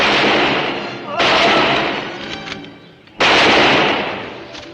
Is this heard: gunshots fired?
yes